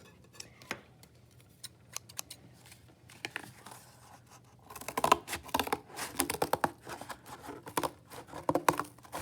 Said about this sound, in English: I'm gonna cut them out with the scissors.